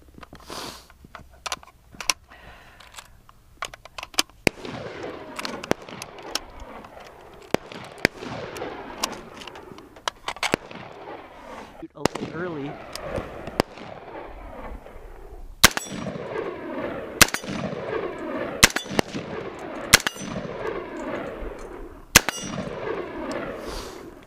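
An AR-15 rifle fired outdoors, with a run of sharp single shots and quick pairs ringing out at uneven intervals, loud and close, some followed by metallic clangs of hits on steel targets, and no talking.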